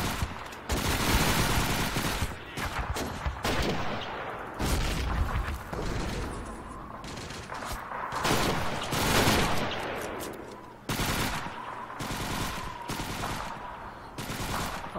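Dense gunfire from the Men of War Assault Squad 2 game in a city hall battle: sustained bursts of rifle and machine-gun fire with booms. It is loud and nearly continuous, with short gaps between volleys and no talk.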